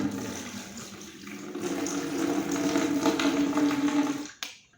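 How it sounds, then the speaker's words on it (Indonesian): Soaking water from instant noodles is drained and poured into a bucket, a steady close splashing gush that swells and then stops abruptly, with no talk. "Aku udah nyiapin timba untuk ngebuang airnya"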